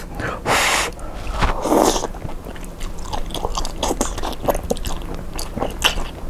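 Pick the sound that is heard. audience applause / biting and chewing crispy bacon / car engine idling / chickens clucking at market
biting and chewing crispy bacon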